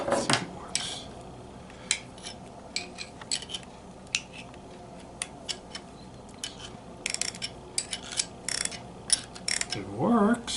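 A rebuilt Proto 1/2-inch ratchet, model 5449-14, clicks as it is turned, giving irregular bursts of metallic pawl ticks with brief clanks in a quiet workshop.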